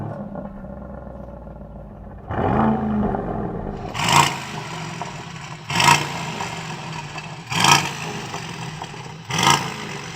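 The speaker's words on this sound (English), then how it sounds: "let's have a listen to what noise you can make with these cars when you rev them at a standstill" An Aston Martin DBX 707 engine starts, then is revved hard four times at a standstill, each sharp roaring blip dropping back to a rumbling idle between.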